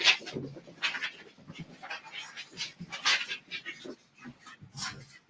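A dog named by the owner runs around a room, with repeated short bursts of scrabbling, panting and yelping sounds close by, uneven and busy throughout.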